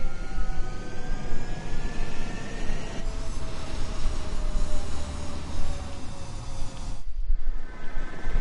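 Jet fighter roaring down the runway on takeoff in the video game Ace Combat 7, a loud continuous engine rumble with rising whine tones, briefly dipping near the end before surging back.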